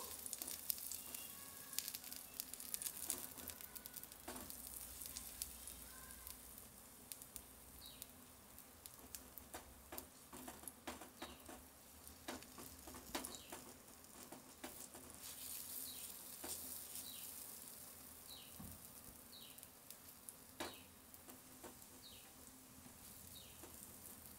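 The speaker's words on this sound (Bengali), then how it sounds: "এইটাকে 1 চামচ করে তুলে আমরা এই কড়াইয়ের মধ্যে দিয়ে দিচ্ছি। দিয়ে পরোটার একটা শেপ নিয়ে নেব।" Paratha batter spooned into an oiled kadai sizzles in a steady, quiet hiss that runs throughout, with no voices.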